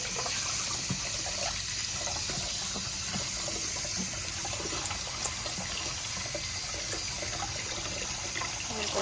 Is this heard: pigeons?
no